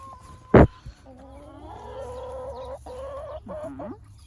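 Backyard chicken in a spring garden clucking and murmuring softly at close range, after a sharp bump near the start, with no talk over it.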